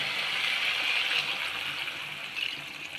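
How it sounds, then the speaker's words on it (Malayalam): Thin second-extract coconut milk is poured into a pot of chicken stew, a steady close liquid pour lasting about three seconds that tapers slightly at the end. "ഈ രണ്ടാം പാൽ ഒഴിക്കുവാണ്"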